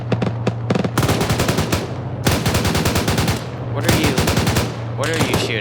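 Video game gunfire: loud bursts of rapid machine-gun fire in several rhythmic volleys with brief pauses, close and dominant throughout.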